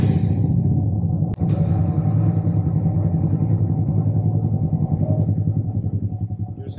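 A small Honda Grom motorcycle engine idles and putters close by with a low, steady rumbling beat, a sharp click partway through, as the bike is readied to ride up onto a truck.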